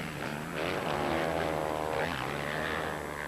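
Motocross motorcycle engines, including a factory Suzuki, roar at full acceleration during an MX1 race in Ireland, a loud continuous droning rise and fall from nearby bikes, with no talk.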